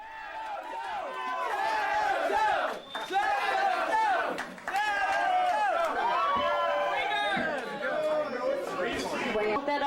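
A concert crowd at the Hamtramck Blowout shouting and chanting for an encore, many voices yelling and cheering together in a loud, sustained roar with short dips.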